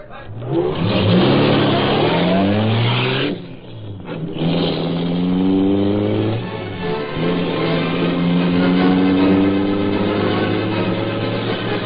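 Car engine in an old-time Green Hornet radio drama chase, the Black Beauty, revs loudly with rising and falling pitch, dips briefly, then surges again as a steady, close roar.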